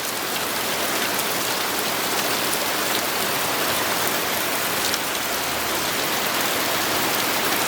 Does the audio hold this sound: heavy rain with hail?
yes